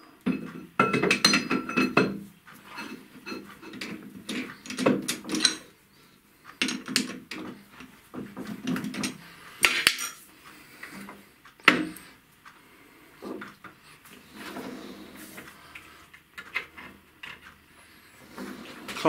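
A metal workpiece is handled in a lathe chuck and fixed steady, giving irregular clinks, knocks and metallic clunks in scattered bursts at close range, fairly quiet, with no talk.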